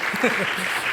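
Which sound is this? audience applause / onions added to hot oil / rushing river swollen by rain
audience applause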